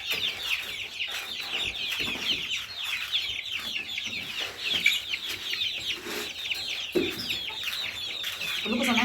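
Many chickens in a poultry battery coop squawk and cluck nonstop, a dense, close chorus of overlapping calls with occasional louder outbursts and no talking.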